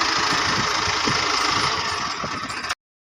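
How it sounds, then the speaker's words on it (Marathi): Tractor engine running steadily in a field during black gram sowing, a close, loud diesel rumble with broad noisy hiss and faint knocking pulses, continuous until it cuts off. "ट्रॅक्टर आला आहे तर ट्रॅक्टरमध्ये बी टाकलं आपण"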